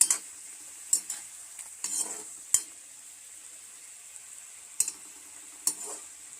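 Sour fish curry with tenga sizzles in a pot under a soft, steady hiss, punctuated by sharp intermittent scrapes and knocks of a spoon stirring it.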